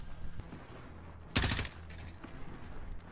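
A single short, loud burst of M4 rifle fire in a video game, a sharp crack with a brief tail, standing out from low ambient game noise and quiet background sounds.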